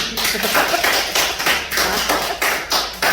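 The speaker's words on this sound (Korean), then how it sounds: "박수 한번 쳐봐" Several people clap together in loose, rhythmic bursts, each round of claps swelling and fading about twice a second, close and loud with no voices over it.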